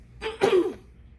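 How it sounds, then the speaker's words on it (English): One short, close throat clearing, a quick rough rasp rising to a grunt, heard alone over quiet room noise. "Clear my throat."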